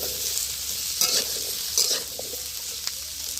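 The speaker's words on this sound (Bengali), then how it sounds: "এই যে কচুর তরকারিটা চাটিয়ে দিয়েছি কচু দিয়ে শোল মাছ হবে" Taro curry for snakehead fish bubbles and sizzles in a wok, with a steady close hiss broken by two brief scraping stirs of a spatula against the metal.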